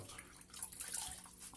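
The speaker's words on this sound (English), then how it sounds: "get the face nice and wet." Water splashing and running as a face is wetted at a sink before a straight-razor shave, a steady close wash of splashes with no talk.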